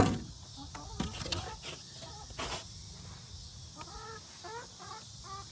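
Quiet chickens cluck softly in short, repeated calls inside a solar-heated coop, mostly toward the end, over faint background hum and insect noise.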